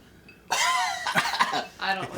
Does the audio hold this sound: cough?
yes